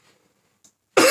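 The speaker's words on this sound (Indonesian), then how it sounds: "Batuknya itu nggak ada dahak ya teman-teman, batuk kering gitu loh." A single dry cough bursts out loud and close at the very end, after near silence with a faint breath before it.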